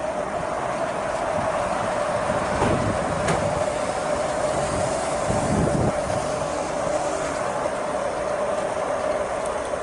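Gas station fuel pump dispensing gasoline into a car, a steady continuous whir and rush that holds level throughout with no talking.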